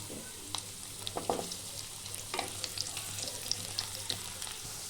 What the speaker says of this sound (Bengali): তেল গরম হয়ে যাওয়ার পর আমি দিয়ে দিচ্ছি কেটে রাখা আলু